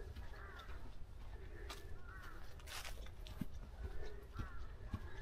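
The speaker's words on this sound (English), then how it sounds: "lots of crows here too." Crows caw on a wooded trail on Buramsan mountain in Seoul in winter, several harsh calls at a moderate distance over footsteps and outdoor ambience.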